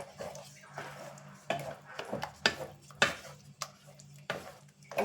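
Tomato pickle is stirred in oil in a pan, quiet scraping strokes with sharp clinks of a spoon against the metal at irregular intervals and a faint sizzle beneath.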